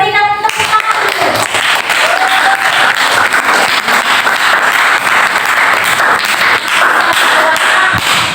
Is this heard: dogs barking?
no